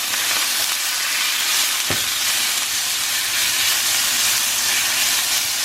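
Beef searing in a frying pan for Philly cheesesteaks gives a loud, steady sizzling hiss throughout, broken by one sharp clink near the start.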